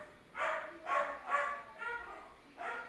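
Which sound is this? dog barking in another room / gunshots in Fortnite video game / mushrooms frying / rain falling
dog barking in another room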